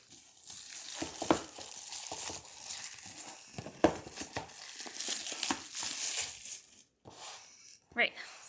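Plastic packaging from a Meijer 2021 summer beauty box crinkles and rustles close by in irregular bursts, with sharp crackles and taps scattered throughout and a brief pause near the end.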